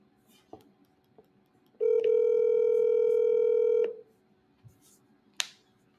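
A single steady telephone tone sounds for about two seconds while a call is being placed, surrounded by faint clicks and small room noises.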